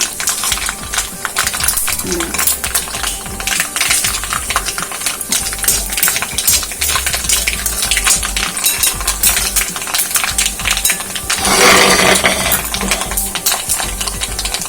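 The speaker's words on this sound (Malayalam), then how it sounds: "കടുക് പൊട്ടി തുടങ്ങിയിട്ട് നിങ്ങൾക്ക് ഇതിലേക്ക് ചുമന്ന മുളക് ഇടാം" Mustard seeds crackle and splutter in hot oil while whole red chillies go into the pan for puli inji, a dense stream of loud pops and sizzling with scraping of a spoon throughout.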